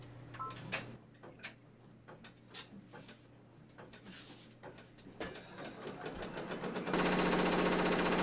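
Home embroidery machine stitching a design at about 1,000 stitches a minute, with a steady mechanical chatter and hum that speeds up and slows as it moves across the design, ending in a louder, denser whir.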